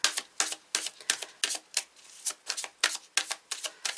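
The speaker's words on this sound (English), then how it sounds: "I'm going to pull some more cards for you though here" Tarot cards are shuffled in quick, crisp bursts, a dozen or so riffling flutters at a steady rhythm, close and fairly quiet with no talking.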